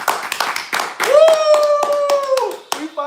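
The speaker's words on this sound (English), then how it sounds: "Everybody clap their hands." A group claps in a quick, uneven rhythm at an outdoor political debate, with close, sharp hand claps that run under a sustained shouted voice.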